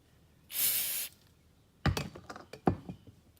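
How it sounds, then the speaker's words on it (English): A short hissing spray burst of aerosol gun scrubber on a Charles Daly shotgun lasts about half a second, followed by a few knocks and clatters. "you're going to want to spray this down with some gun scrubber"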